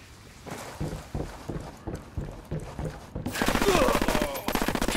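Rapid machine gun fire in a video game, sharp repeated bursts that grow louder and denser partway through, continuous rattling over a busy combat background.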